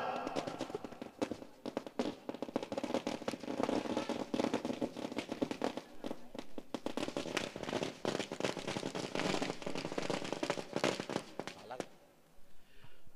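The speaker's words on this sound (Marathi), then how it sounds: "फटाक्यांच्या आतषबाजीमध्ये या ठिकाणी स्वागत होत आहे परेशजी पाटील इंडियन सोल्जर." Firecrackers go off at a welcome ceremony, a dense run of sharp cracks and pops that carries on for several seconds and then stops near the end, with an announcer's voice heard alongside.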